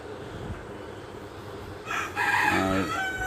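A rooster crows once, loud and near, ringing out in the second half over faint background noise.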